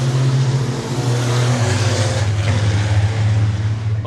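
Racing trucks at Donington circuit in the 2016 British truck racing championship: a loud, deep engine drone rises and falls as the trucks press on. Faint tire noise sits under the heavy rumble.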